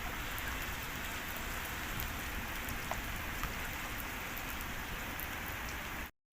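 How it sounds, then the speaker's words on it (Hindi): Heavy rain pours down in a dense, steady hiss on surfaces, loud and unbroken for several seconds before a brief cut. "बहुत अच्छी बारिश हो रही है"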